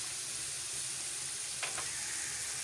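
Keema frying in a pan with tomato and green chilies, a steady, even sizzle throughout with a faint stirring scrape near the end, no talk.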